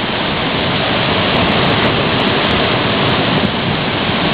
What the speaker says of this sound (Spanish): los bolos por debajo del agua hacen un ruido impresionante